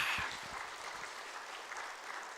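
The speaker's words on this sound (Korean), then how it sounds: "하나님께 영광의 박수" A church congregation at a Sunday worship service claps in praise of God, a soft, dense patter of many hands that sounds somewhat distant and stays fairly even.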